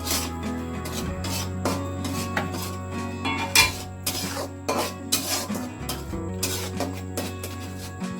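Masala for egg tikka being stirred and fried in a pan, with repeated scraping strokes of a spatula against metal in an irregular rhythm over a low steady hum, close and fairly loud.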